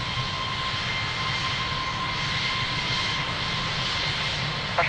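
Fixed-wing airliner taking off from runway 02 at Lisbon Airport, a steady broadband engine roar that holds loud and constant throughout with no voices.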